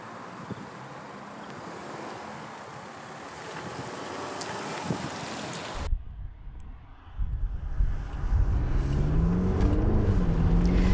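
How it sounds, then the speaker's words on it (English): A diesel estate car drives with a steady engine drone and road rumble, then the sound shifts abruptly to a louder, deeper engine note with wind buffeting. "you'll notice straight away that the Jaguar's diesel engine is more vocal"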